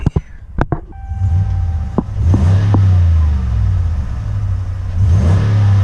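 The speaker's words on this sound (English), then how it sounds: "Here, we'll give it a few blips, even though it's got just a stock exhaust." A 2019 Ram Rebel pickup with stock exhaust is blipped in a few sharp revs, followed by a sustained deep engine drone that rises and falls close by.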